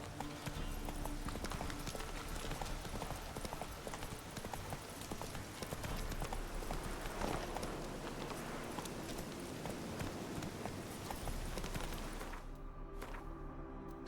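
Roach, the horse in The Witcher 3, gallops with a rapid, continuous drumming of hooves over game ambience, close and steady, easing off and thinning out in the last couple of seconds.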